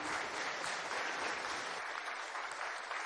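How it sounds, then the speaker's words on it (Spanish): An audience applauds at the closing of a colloquium marking Ayacucho 1824-2024, a sustained, dense patter of clapping that stays at an even level from start to finish. "Está un aplauso, Jorge, para ti,"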